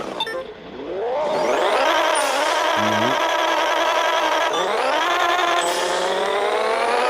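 Twin-turbo Nissan 350Z in Pixel Car Racer launching hard, the engine note climbing steeply through two rising pulls to redline, loud and close, with a brief shift between them.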